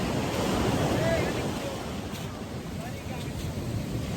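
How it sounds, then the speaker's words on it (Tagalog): High ocean waves at the beach in Baler, Philippines, a continuous loud roar of surf with heavy wind buffeting the microphone and voices faintly under it. "mataas ang alon ngayon, guys!"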